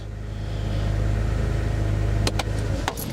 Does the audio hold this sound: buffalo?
no